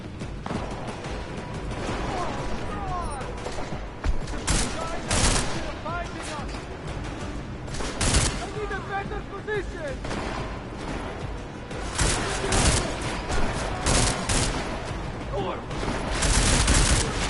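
Bursts of gunfire in Deus Ex: Mankind Divided, rapid repeated shots and fusillades with booms through a chaotic firefight, loud and dense, with players' voices talking over the action.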